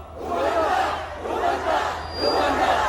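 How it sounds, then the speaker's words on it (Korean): A crowd at a political rally roars and chants in rising and falling waves, a dense wall of voices that swells about three times without any single speaker standing out. "다시 한번 큰 박수 부탁드리겠습니다"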